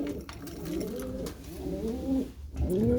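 Pigeons cooing in a winter breeding loft, repeated throaty rolling coos from several birds close by, overlapping in waves with a short pause near the end, no talk.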